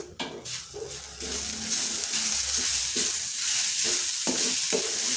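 A veg cutlet mixture without potato, with coriander leaves added, is stirred in a pan, giving steady scraping and soft sizzling that stays close and continuous, with occasional utensil knocks and no talk.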